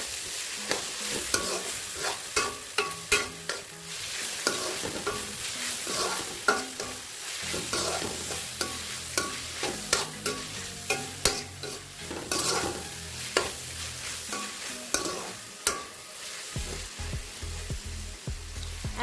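Street-style chowmein with salt is stirred and fried in a pan, with repeated sharp scraping and clanking strokes of the spatula over a steady sizzle, close and fairly busy.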